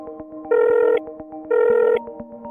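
Telephone ringback tone heard while placing an outgoing call: two evenly spaced ring bursts, each about half a second, over a faint repeating background pattern, with no voices.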